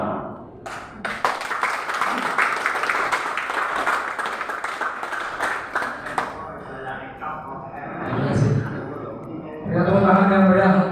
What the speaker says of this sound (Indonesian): tepuk tangan yang meriah untuk MC